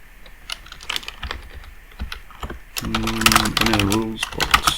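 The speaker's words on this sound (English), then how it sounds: "so I have another keyboard on top. It may or may not improve the keyboard sounds." Typing on an external computer keyboard set on top of a laptop: a dense, irregular clatter of close key clicks, with someone talking partway through.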